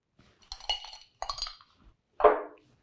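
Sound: ice cube dropped into a glass

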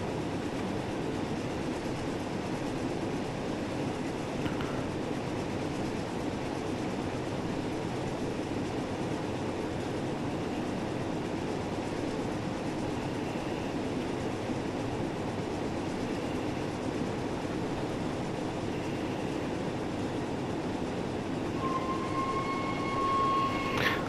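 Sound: Flying Scotsman steam locomotive running, from video game Train Sim World 4

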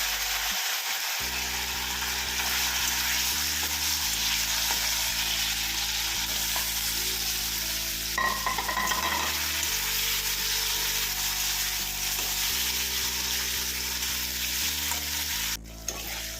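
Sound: paneer frying and sizzling in oil

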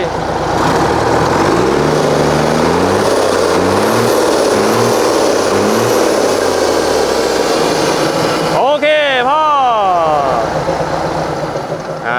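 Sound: Hino P11C 320 hp truck engine revving

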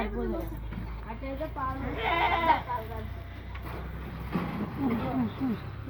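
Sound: goat kids and lambs bleating

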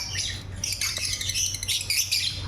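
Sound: personata lovebird calling

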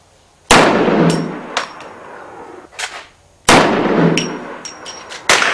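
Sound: gunshot hitting a steel target

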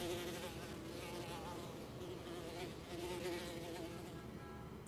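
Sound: bees flying around in a cave dwelling

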